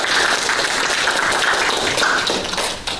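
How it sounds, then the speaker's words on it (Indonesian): Applause from a classroom of students during a guidance lesson, a steady patter of clapping hands filling the room for about three seconds before easing slightly at the end. "mari kita tepuk tangan dulu untuk dia"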